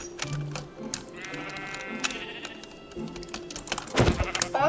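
Minecraft sheep bleat repeatedly, one long wavering call standing out amid scattered clatter and thumps, ending in a louder burst of noise.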